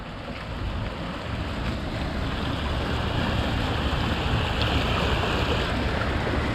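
Water pours in through an opened sluice gate with a steady, loud broadband rush that builds slightly over several seconds, mixed with wind buffeting the microphone and no talking.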